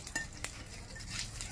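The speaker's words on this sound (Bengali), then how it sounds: "এখন ফোড়নে নিয়েছি শুকনো লঙ্কা, তেজপাতা আর গোটা জিরে। এগুলো আমি একসঙ্গে ভেজে নেবো।" Dried red chillies, bay leaf and whole cumin seeds fry together in hot oil. A faint, low sizzle runs throughout, with a couple of light utensil clicks against the pan.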